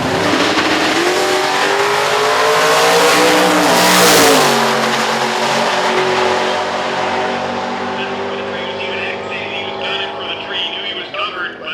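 Drag cars making over 1,200 horsepower launch down a quarter-mile strip, loud rising engine roars climbing in pitch, then fading as they pull away while a commentator talks over the noise.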